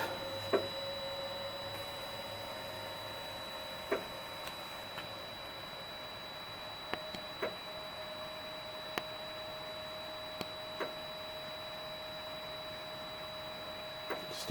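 MakerBot 5th gen 3D printer finding its home position: a steady electrical hum with sparse, sharp clicks and ticks from moving parts, quiet and mechanical.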